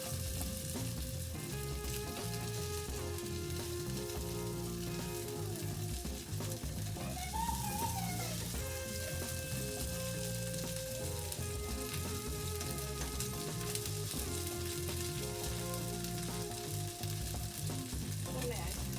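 Paneer frying in hot oil in a pan gives a steady, close sizzle that continues without a break, with occasional stirring and faint background tones, and no voices.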